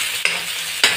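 Onions sizzle in hot oil in a wok, a steady frying hiss broken by two sharp stirring scrapes, close and loud, with no voices.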